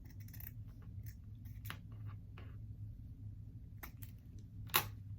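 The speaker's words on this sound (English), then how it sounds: "you're going to press the 2 ends together. And you're going to cut up." Scissors snip through ribbon ends to cut a dovetail for a spring wreath bow: a few short, crisp snips spaced apart, with one sharper cut near the end, over a steady low hum.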